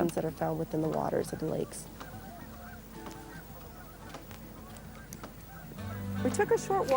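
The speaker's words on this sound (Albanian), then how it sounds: "Pasi zogjt ndalojnë këtu, ato shplodhen dhe ushqehen me farat e bimëve të zonës" Geese honking in loud repeated calls among migratory birds resting at a desert lake, with people talking over much of it and a dense outdoor bird chorus behind.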